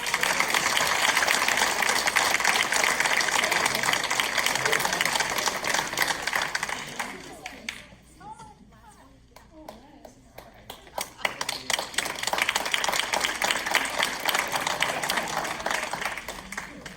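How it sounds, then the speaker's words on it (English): Banquet guests clap together in a room, with a busy, sustained patter. Partway through, the applause thins to scattered claps, then swells back to full strength. "All right, give a round of applause, guys."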